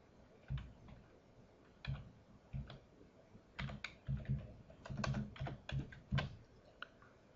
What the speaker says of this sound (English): We're going to type in a UPC code.